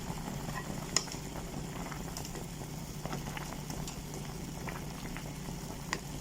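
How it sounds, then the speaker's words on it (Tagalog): Vegetable white soup simmers in a pot in a continuous, close bubbling boil, with an occasional faint clink and no one speaking. "So ayan, kumulo na siya."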